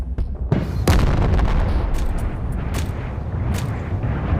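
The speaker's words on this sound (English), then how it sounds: "the Rocket Dragon RPG, for the ultimate destruction with style" The Rocket Dragon RPG fires in Animal Company with a sharp crack, then heavy booms pile into a sustained, loud, rumbling roar of destruction lasting several seconds, with a few more sharp hits breaking through near the end.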